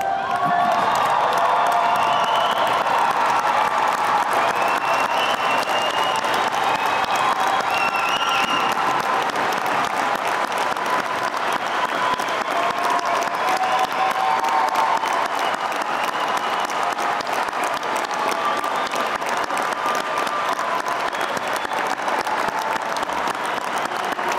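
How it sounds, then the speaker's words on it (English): Large audience at a Monmouth University winter commencement ceremony clapping for new graduates, dense loud sustained applause with scattered cheers and whoops running throughout. "Please stand, give them your applause."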